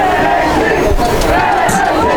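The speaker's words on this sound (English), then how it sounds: "NAC crowd getting the NAC cheer going. And they're stomping on the bleachers." At a girls' high school basketball game, the crowd cheers and stomps on the bleachers, a dense, loud roar of voices with low thumping underneath and shouts rising through it.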